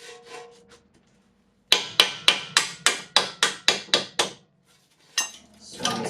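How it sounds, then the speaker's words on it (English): A brass hammer strikes metal on a 2008 Acura MDX front axle in a quick, steady series of about a dozen sharp, ringing blows, close by, after a short quiet pause, with a couple more hits at the end. "So brass hammer."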